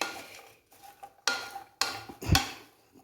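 Beans and raw plantain with salt being stirred in a pan, a few distinct scraping and clinking strokes of a spoon against the metal, separated by quiet pauses, close and fairly faint.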